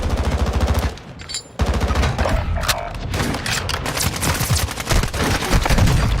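Dense automatic gunfire and booming shots in a Call of Duty match, loud rapid bursts filling the whole stretch with only a brief lull, close and relentless.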